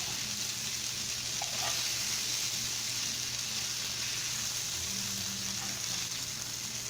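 Lamb browning in a hot frying pan gives a steady, close sizzle that runs unbroken throughout, with faint stirring or shifting sounds on top.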